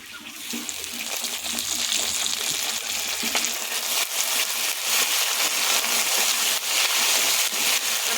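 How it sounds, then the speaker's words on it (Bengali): Onions frying in a pan for a katla fish curry, a steady close sizzle with crackles and occasional scraping stirs, no talking. "পেঁয়াজটা একটু ভাজা ভাজা করে নিই।"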